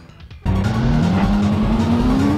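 A car drifting in Drift King Shutokou Battle '94, its engine droning steadily while the tires squeal in a long rising whine after a sudden loud onset.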